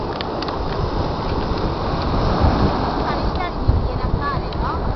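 Sea waves wash steadily at the seaside, a broad, continuous rushing surf mixed with wind buffeting the microphone, with faint voices in the background.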